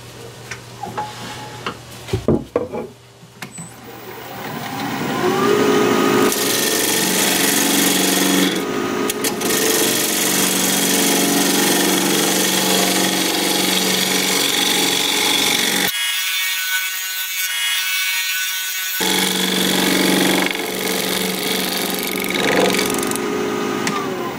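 A wood lathe spins a wooden dish in the workshop, giving a loud, steady whirring rub with the tool cutting into the wood. Brief clatter comes first, and the noise breaks off for a few seconds near the end.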